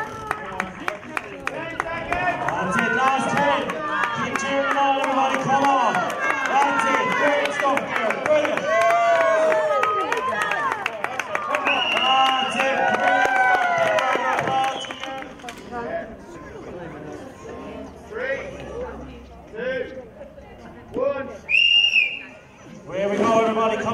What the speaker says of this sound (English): Keep cheering on, everybody, come on.